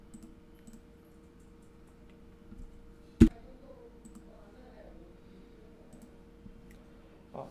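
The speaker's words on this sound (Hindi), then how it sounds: "एंड अगेन एक बार क्लिक करते हैं।" A computer mouse gives a single sharp click partway through, close and distinct against a quiet room hum.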